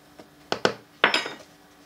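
Pizza dough ingredients, including powdered milk, being mixed in a bowl with a utensil, giving a few distinct clinks and scrapes against the bowl, close and moderately loud, with no talking.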